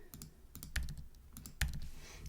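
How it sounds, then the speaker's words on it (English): Keys on a computer keyboard are tapped quietly in a quick irregular series, with two sharper, louder presses standing out from the softer clicks. "Click delete, delete, click delete,"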